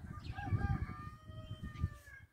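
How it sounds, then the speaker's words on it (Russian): Roosters crow in the distance, drawn-out calls overlapping against a low rumble of background noise. "Петухи поют у нас."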